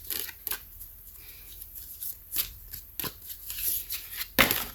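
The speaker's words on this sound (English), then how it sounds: "This is a new deck, so shuffling hearts is a little difficult." A brand-new deck of Guardian Angel oracle cards is shuffled by hand, giving stiff riffling bursts and slaps at uneven intervals, close and crisp with no talking.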